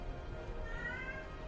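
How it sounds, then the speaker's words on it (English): A cat meows faintly in the background, one drawn-out mew rising over a steady hum of room noise and game sound. "I don't know if y'all can hear my cat in the background,"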